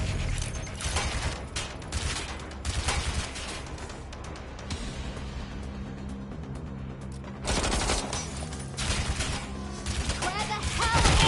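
Rapid bursts of gunfire in the video game Watch Dogs: Legion rattle out in loud volleys, fading into a quieter mechanical stretch midway before another heavy burst, with voices heard at times.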